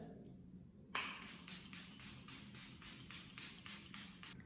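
Makeup setting spray misted from a pump bottle, a quiet hiss followed by a steady series of about ten short, evenly spaced spritzes close by.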